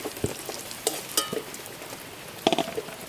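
Whole garam masala, bay leaf and dried red chilli hit hot oil, giving a few sharp crackles and pops over a faint steady sizzle, close by, with no talk.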